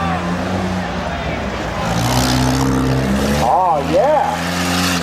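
A 1997 Chevy Corsa rough truck engine roars under load climbing a big hill, a loud steady drone with rising revs, while a voice talks over it.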